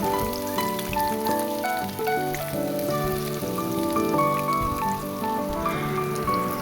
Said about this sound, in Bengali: এরপর আমি একটা একটা করে কাবলি ছোলা করে তেলের উপর ছেড়ে দেব